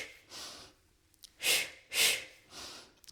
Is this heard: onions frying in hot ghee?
no